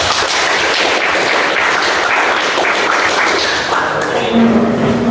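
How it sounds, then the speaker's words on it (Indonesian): A classroom of high school students claps for a professor in a dense, steady burst of close applause that fades slightly near the end. "tepuk tangan untuk Profesor"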